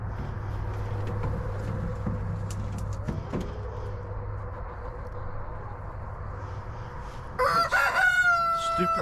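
A rooster crows near the end, loud and close, in a backyard chicken tractor setting. Before it comes a steady low hum and some scattered clucks and knocks.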